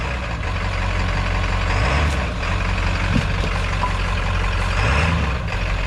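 Powerstroke diesel Bronco truck engine idling and crawling off road, a loud, steady low rumble that holds throughout, with slight swells in revs.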